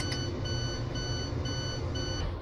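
A repeating electronic alarm tone from a train cab in the Train Sim World Rapid Transit game, steady evenly spaced beeps sounding over a low continuous rumble of the train.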